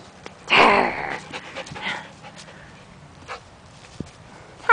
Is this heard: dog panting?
yes